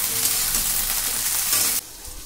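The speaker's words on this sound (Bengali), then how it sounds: "পেঁয়াজ ভেন্ডি সব একসাথে ভেজে নেব।" Onions and okra fry together in a pan, giving a loud, close, steady sizzle that cuts off abruptly near the end, leaving only quiet room noise.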